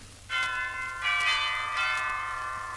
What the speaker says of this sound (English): I walked up to the cottage, rang the bell.